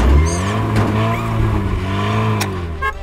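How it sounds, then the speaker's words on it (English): A cartoon truck's engine starts and zooms off, heard as a loud, revving whine that climbs and swoops in pitch, with short squeaky accents and no talk. "Turn on Tilly's engine, that's all Sly needs to share Tilly's power and zoom off at speed."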